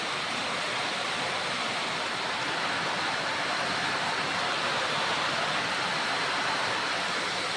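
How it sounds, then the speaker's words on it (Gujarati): Heavy rain pours down steadily at a farmhouse, a dense, continuous broadband roar that stays loud and unbroken throughout with no voices. "ગાઈસ ફાઇનલી આ વરસાદ ચાલુ બહુ ખૂબ ચાલુ."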